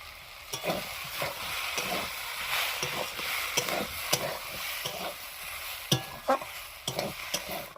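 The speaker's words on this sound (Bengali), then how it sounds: "ভেজে রাখা চিংড়ি মাছগুলো দিয়ে দেবো।" Fried shrimp are stirred into a leafy green vegetable curry in a pan. A spoon scrapes repeatedly at an irregular pace over a continuous gentle sizzle, close by and without talking.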